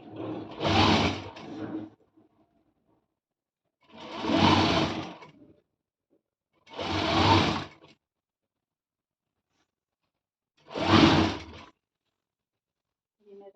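A sewing machine stitches a velvet blouse in four separate bursts of about a second or two each, close and fairly loud, with silent gaps between runs.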